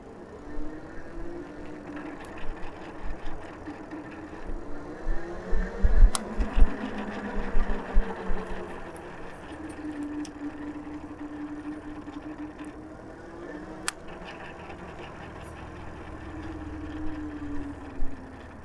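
Electric tricycle with 4-inch-wide tires riding along at around 8 to 12 mph, a steady low motor whine and road hum rising and falling with speed, with some rattling bumps in the middle and no talking.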